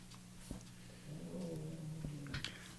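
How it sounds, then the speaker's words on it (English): A domestic cat meows indoors: a single drawn-out, wavering mew lasting about a second, faint and fairly close, with soft taps around it and steady low background hum. "I apologize for the cats."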